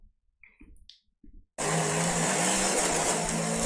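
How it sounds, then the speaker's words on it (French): A 4x4 truck driving, generated by AI, heard as a loud, steady broadband roar of engine and road noise that starts abruptly after a second and a half of brief, quiet sounds and continues without break. "On a l'impression d'entendre le camion, le 4x4, on est dans la réalité"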